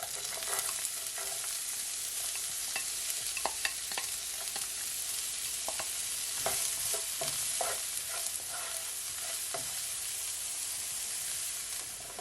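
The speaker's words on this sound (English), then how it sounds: "I'm just gonna allow my onion and garlic to saute for at least, I would say, 40 seconds" Onion and garlic sauté in a pan with a soft, continuous sizzle. Scraping stirs from a utensil are heard at intervals, fairly quiet and close, with no talking.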